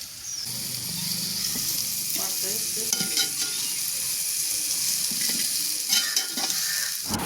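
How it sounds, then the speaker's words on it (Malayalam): Fried chicken pieces tossed into a pan of softened tomato masala for chicken curry, with a steady broadband sizzle and frying hiss running throughout, broken by occasional stirring scrapes and clinks of a utensil against the pan. "അതിലേക്ക് നമ്മൾ വറുത്ത് വെച്ചാണ് ചിക്കൻ ഇട്ട് കൊടുക്കാം."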